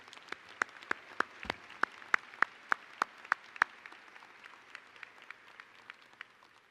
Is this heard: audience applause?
yes